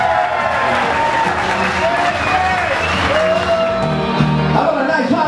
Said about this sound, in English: give him a nice hand